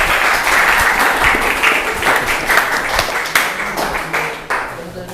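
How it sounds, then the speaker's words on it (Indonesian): Loud, close applause from an audience after a student presentation, a dense burst of clapping with sharp individual claps standing out, gradually thinning toward the end with no voices. "Tepuk tangan."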